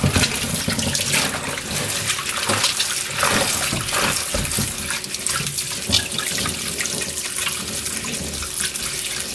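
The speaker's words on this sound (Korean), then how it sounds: "다 따듬으셨으면 이제 깨끗하게 씻으시면 돼요." Green garlic stalks rinsed under a running kitchen tap, a steady broadband stream of water splashing into the sink with small shifting splatters as the stalks are moved, close and continuous with no talking.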